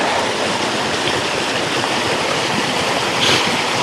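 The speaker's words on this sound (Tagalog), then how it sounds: "Tawid tayo ng sapa." Steady rushing water flows throughout, a dense broadband wash like a stream over rocks, close and fairly loud with no voices.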